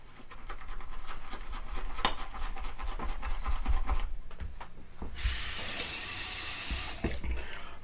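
Water runs steadily from a tap to wet shaving lather, a constant close splashing stream that shifts to a brighter, harder gush as the flow increases near the end.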